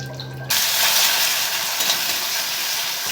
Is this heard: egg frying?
yes